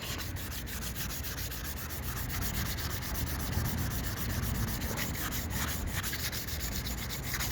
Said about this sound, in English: Okay, wet sand again.